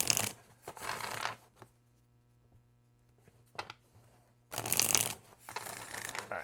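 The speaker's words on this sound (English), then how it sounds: "I just love shuffling cards" Tarot cards are shuffled close up in crisp riffling bursts, one long run at the start, a brief flick midway and another long run near the end, with quiet pauses between.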